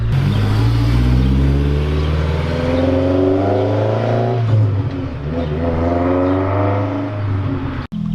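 A small Mazda Miata MX-5 engine revving with a deep, loud exhaust note, close by and continuous, rising and falling in pitch across several throttle blips.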